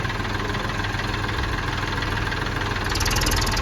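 A tractor engine idles close by with a steady, loud, continuous rumble and slight vibration, with no talk over it.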